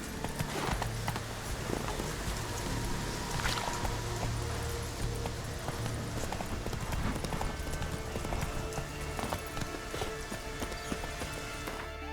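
Horse Roach gallops in The Witcher 3, a steady dense clip-clop of hooves running on without pause, loud and close over a constant wash of background noise.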